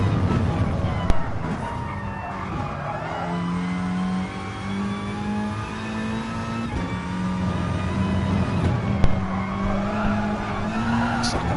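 A race car in Gran Turismo Sport during an NGR VW Cup online race lap, its engine droning steadily and loudly through the whole stretch, with pitch climbing and dropping across gear changes and occasional sharp transient knocks.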